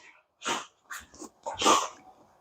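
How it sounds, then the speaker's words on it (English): Dogs scuffle nearby with huffing snorts, short growls and a sneezy exhale in quick irregular bursts. "if you hear the dogs wrestling in the background"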